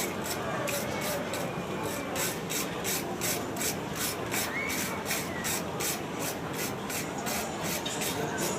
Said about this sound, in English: I'll just wire brush him up